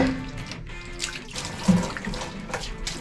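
Cold, clear water streams at a mountain spring, giving a continuous close splashing gurgle with small drips and bubbles and no voices.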